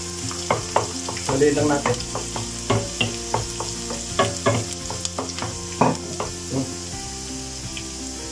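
Garlic sautés for pinakbet with a loud continuous sizzle and frequent clattering stirs of a utensil against the pan, with a brief spoken remark.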